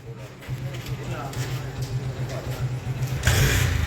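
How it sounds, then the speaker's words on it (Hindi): A Mahindra Scorpio top model idles with a steady low engine hum that rises slightly near the end, heard close up under a voice talking over it. "ये देखो जी स्कॉर्पियो टॉप मॉडल ले आया।"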